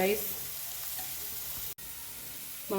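Egg fried rice frying in a hot pan, a steady sizzle running throughout at moderate level, with a brief dropout near the middle and faint voice traces at the start and end.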